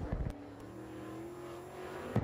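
Open wheel modified race car, the number 77, running a qualifying lap at Boyds Speedway, its engine holding a steady droning tone with a brief louder surge at the start and again near the end.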